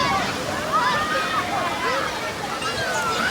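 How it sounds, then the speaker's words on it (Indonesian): Strong waves on Lake Toba washing and sloshing against the shore in a continuous, fairly loud rush, with faint background chatter from people nearby. "Ombaknya keras dia"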